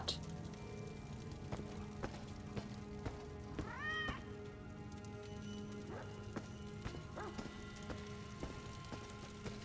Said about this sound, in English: I don't see a cat, but I hear one.